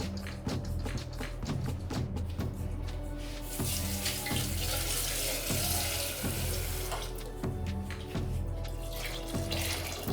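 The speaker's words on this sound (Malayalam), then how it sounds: "ഒന്ന് മുങ്ങി കിടക്കുന്ന പരുവത്തിന് വെള്ളം ഒഴിച്ച് കൊടുത്തിട്ടുണ്ട്." Water poured into a pressure cooker over wheat to soak it for soup, a steady splashing stream runs throughout with soft, regular thumps beneath, close and fairly loud.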